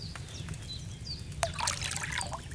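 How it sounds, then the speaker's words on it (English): Wine pours into a cauldron in Kingdom Come Deliverance II, a short trickling splash rising over a soft background rumble. "First, you have to pour the right base into the cauldron."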